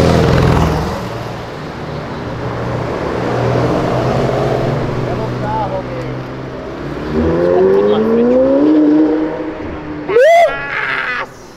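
A McLaren sports car on a São Paulo street, its engine rising in a loud, close revving sweep that climbs in pitch, followed by a brief sharp whine, with voices talking over the noise.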